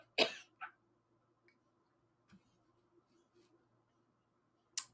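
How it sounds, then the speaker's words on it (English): A person coughs close by in a few sharp, harsh bursts: a pair at the start, a long quiet stretch with faint room sound, then another hard cough at the very end. "Now I can't stop coughing."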